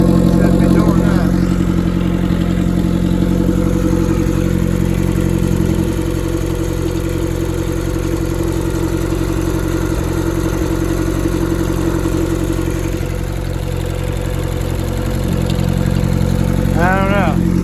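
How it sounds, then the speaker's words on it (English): A turbocharged Hyundai daily-driver engine runs at a steady, close idle with a constant low drone and faint mechanical clatter from a clutch needing adjustment, while someone talks over it. "we got some noise. I'm gonna have to adjust that clutch."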